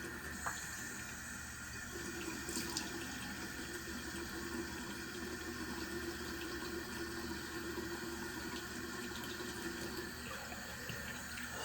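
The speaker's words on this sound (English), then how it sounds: "I'm going to just rinse my face with my hands instead" Tap water runs into a bathroom sink while a face is rinsed by hand over it, a soft continuous stream with faint splashes, fairly quiet and without speech.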